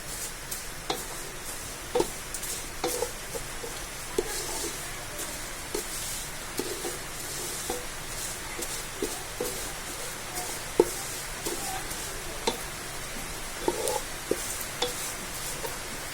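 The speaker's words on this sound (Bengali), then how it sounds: "সেমাইটাকে আমি লাল করে ভেজে নেব।" Vermicelli frying in a pan for dudh semai, a soft steady sizzle with intermittent scraping stir clicks throughout, fairly quiet and close.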